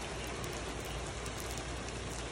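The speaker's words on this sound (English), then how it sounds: "really wish that rain had gone away" Steady rain falling outdoors beside a Ram 1500 pickup truck, an even, faint hiss of drops on surfaces that continues unbroken with no voices.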